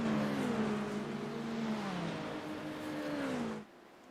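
Race cars in a sim racing endurance event heading into the Porsche curves, engines droning steadily at high revs with shifting pitch for several seconds before cutting off abruptly near the end.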